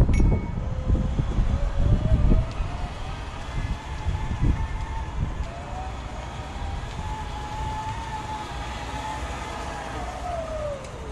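An Omega Trac power wheelchair drives on cogged belts meshing with drive pulleys, giving a rising and falling whine over a rumbling low grind that starts with heavy clunks, then settles into a steady hum.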